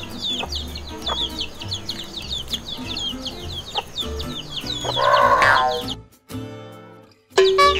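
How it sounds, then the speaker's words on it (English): Chicks and a hen on a farm cluck and chirp in quick, busy bursts under a bouncy cartoon-style boing effect, with a brief pause near the end before sound returns. "The cute chicks and the hen are also here."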